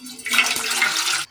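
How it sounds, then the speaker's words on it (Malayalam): Water is poured into a pot on a stove for a Kerala dish, a short, close, steady rushing splash that ends abruptly. "അടുപ്പത്തൊരു പാത്രം വെച്ച് കൊടുത്ത് അതിലേക്ക് ഒരല്പം വെള്ളം ഒഴിച്ചു കൊടുക്കാം"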